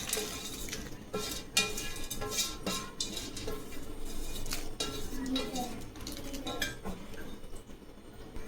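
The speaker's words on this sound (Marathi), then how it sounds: "हे सर्व आपण मिक्स करून घेऊ." A spoon stirring potato and semolina shev chivda snack ingredients in a pan, steady scraping and clinking of metal against metal in irregular strokes, close and moderately loud, with someone talking underneath.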